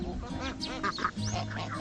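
Several ducks on a farm quack nearby in quick, overlapping calls against a low steady background hum.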